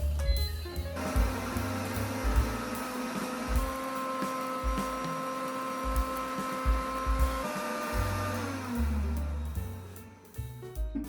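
A kitchen appliance grinds dried corn into cornmeal with a steady whirring motor drone that shifts pitch as the speed changes, running continuously before slowing near the end.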